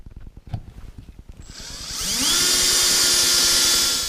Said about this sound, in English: We're going to drill it with a 7/16 drill.